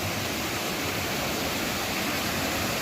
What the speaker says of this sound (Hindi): तो आज हम सब लोग घूमने गए हैं जहाँ वाटरफॉल होता है।